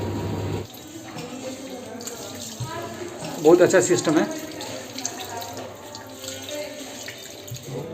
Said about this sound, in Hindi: अब सेंसर लगा हुआ है, पानी लगाएंगे, पानी गिरना शुरू हो गया